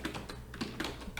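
A brief run of soft keystrokes on a computer keyboard, several quiet taps in an uneven rhythm over a low background hum.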